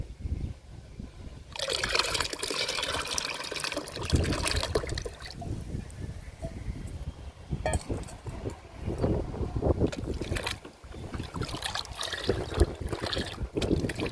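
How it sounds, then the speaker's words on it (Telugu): Watermelon liquid fertilizer sloshes and trickles into water as it is diluted, in intermittent splashing bursts, close and fairly quiet, with soft handling noises between pours. "వాటర్లో డైల్యూట్ చేసుకుందాము."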